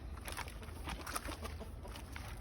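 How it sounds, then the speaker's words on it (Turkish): Chickens clucking in a steady, busy farmyard chorus with a low hum underneath, fairly close and continuous throughout. "Aha burada tavuklar var."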